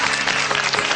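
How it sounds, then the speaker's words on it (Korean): A studio audience at a Korean high school quiz show gives consolation applause for the eliminated Wonju Daesung High School team, a brief, dense burst of clapping heard alone. "탈락한 원주 대성고에게 위로의 박수 부탁드립니다."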